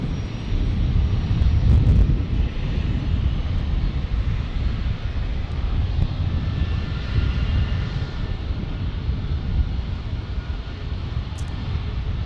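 A Delta Airbus A321neo jet airliner passes near a San Diego airport with a broad, steady engine roar and some wind rumble, holding strong throughout with no voices.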